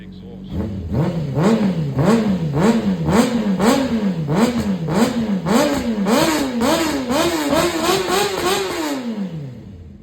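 A Honda CBR600RR motorcycle engine with rust and debris in the exhaust revs up and down in a steady rhythm, loud and close, its pitch rising and falling in repeated bursts before settling and winding down near the end.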